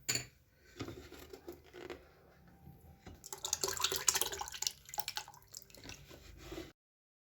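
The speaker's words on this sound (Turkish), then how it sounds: "Süzdürdüğüm sirkeyi şimdi pet şişeye dolduruyorum." Strained homemade plum vinegar is poured into a plastic PET bottle, giving a run of irregular drips, splashes and gurgles near the microphone that grows busier toward the end, with no talking.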